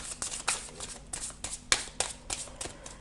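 Tarot cards are shuffled and dealt in a quiet room, a close series of crisp riffles and flicking snaps coming in irregular bursts.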